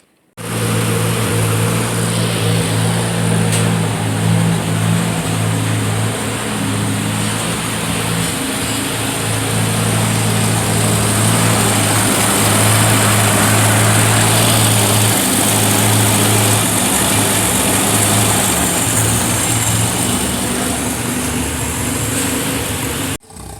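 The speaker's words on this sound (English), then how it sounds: "Test drive on a 1971 Opel GT." A 1971 Opel GT's small engine on a test drive: a steady, loud droning hum with a buzzy whine held throughout, rising slightly in the middle, heard close with no talk.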